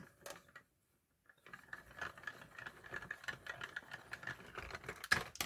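A crafting die cutting machine grinds as it rolls card through, after a brief silence a steady mechanical rattling and clicking builds, close and moderately loud.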